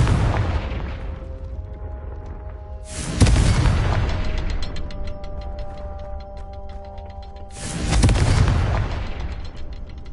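Two heavy, booming blasts from the Confringo fire spell in Hogwarts Legacy, each a sudden loud burst that rolls and decays over several seconds, with a faint tonal game soundscape lingering between them.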